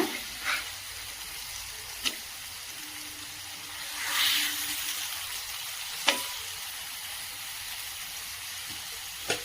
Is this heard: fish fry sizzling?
yes